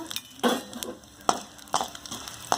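Mustard seeds, cumin, chana dal, curry leaves and dried red chillies fry in sesame oil, crackling softly, with several sharp pops and spoon-against-pan clinks close by.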